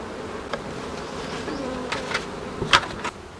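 Honeybees buzz steadily around an open hive during a split-and-merge colony division, a dense close drone with a few louder individual bees passing near.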